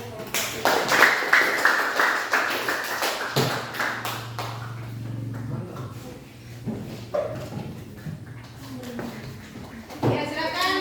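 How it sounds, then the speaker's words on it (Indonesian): Classroom applause for a student group, a run of quick, fairly loud hand claps by pupils that thins out into scattered claps, with voices talking and a teacher speaking afterward. "Kita beri aplaus untuk kelompok 2."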